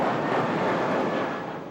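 A low-flying airplane passes overhead in South Minneapolis, a loud, steady broadband roar that holds throughout and eases off slightly at the end, with no voices.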